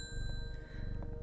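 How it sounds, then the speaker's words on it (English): A single bright bell rings in the Strange Horticulture plant shop game, its ring sustained and clear over a low ambient rumble, with no voice in the clip. "I'm going to ring the bell"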